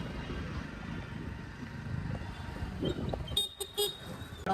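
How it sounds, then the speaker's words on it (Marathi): Busy street traffic hums steadily during Bhim Jayanti celebrations, with several short car horn toots near the end, close by and fairly loud. "ट्रॅफिक तर मोकार आहे"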